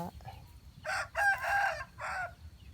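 A rooster crows once, a loud drawn-out call in several rising and falling bursts, over quiet background noise.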